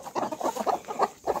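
Aseel hens cluck in a quick series of short, close calls, about six bursts in under two seconds.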